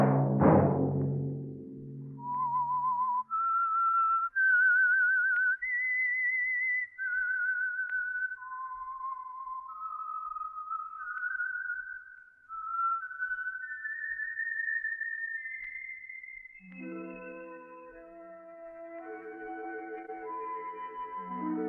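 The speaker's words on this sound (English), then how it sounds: "Let that whistle be your signal" A single person whistles a slow, wavering melody, clear and close, held notes rising and falling, ending as a soft orchestral chord swells in.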